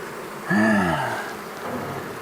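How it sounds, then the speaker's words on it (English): Bees humming inside a box during a swarm rescue from a shed, a steady close buzz with a brief rising tonal sweep near the start. "this box is full of bees too"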